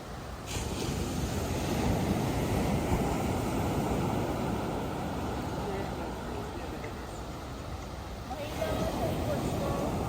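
Strong surf rolls onto a beach on the UAE coast near Fujairah and Umm Al Quwain, a steady broad rumble of crashing waves heard close by while people chat over it.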